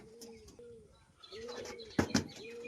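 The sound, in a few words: pigeons cooing, tumbler pigeons being shown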